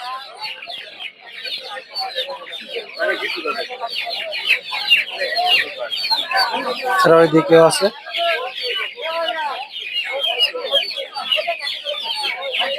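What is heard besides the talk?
farm chickens clucking at a poultry market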